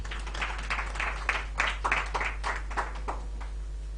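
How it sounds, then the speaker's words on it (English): Audience at an Amber Heart Foundation event clapping for Bebe Cool, a brief, moderately loud patter of many hands with no talk over it. "Can you clap for Bebe Cool?"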